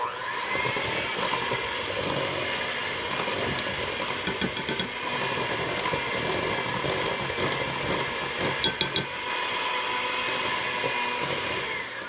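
An electric mixer whirs steadily as flour is worked into Halloween cookie dough, a continuous close motor drone with a couple of brief rattling clatters as the beaters knock the bowl.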